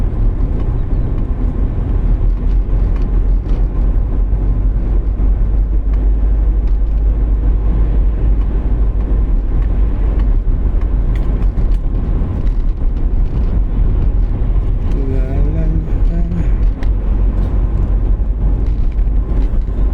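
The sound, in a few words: large vehicle being driven, engine rumble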